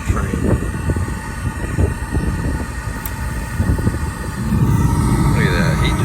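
A rooftop HVAC unit's fan starts up: a broad, rushing mechanical roar and hum that swells and settles into a louder steady drone partway through, close and dominant.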